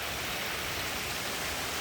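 Heavy rain pours at a hut in a temple compound as dusk approaches, making a dense, steady, unbroken hiss close around the listener with no voices.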